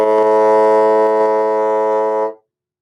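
A bassoon sustains a single steady A, reedy and rich in harmonics, held close and loud for about two seconds before stopping cleanly, alone with no talk.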